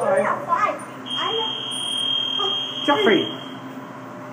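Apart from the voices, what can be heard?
elevator alarm bell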